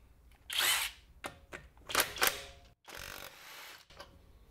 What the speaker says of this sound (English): Reverse mode should stop as soon as that lug nut comes loose.